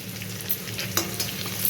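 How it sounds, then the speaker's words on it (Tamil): A chopped medium-size onion sautés in a pan until brownish, as the base for a village-style kola urundai kuzhambu. It gives a continuous close sizzle, with brief clinks and scrapes from stirring, and no voices. "மீடியம் சைஸ் வெங்காயம் ஒன்று கட் பண்ணி வச்சுருக்கேன். அதையும் இதில் போட்டு நல்ல ப்ரௌனிஷாக வர வரையும் நம்ம வதக்க போகிறோம்."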